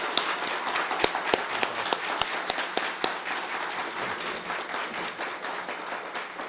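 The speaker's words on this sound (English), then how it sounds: "just give yourself a round of applause for the great work that you've done" University faculty and staff at a press conference give themselves a round of applause, a moderately sized crowd clapping steadily with a few sharp, loud individual claps standing out near the start before the sound thins out.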